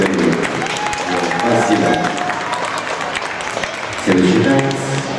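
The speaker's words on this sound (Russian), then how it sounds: "А громче можно аплодировать?" Audience applause at a ballroom dance competition for senior couples in the standard D-class, a dense sustained clapping that swells again near the end, with a voice over a loudspeaker briefly speaking over it.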